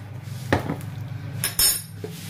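A metal spoon scooping fennel seeds in a home kitchen gives a few sharp clinks and scrapes against a container, close and spaced irregularly over a low steady background hum.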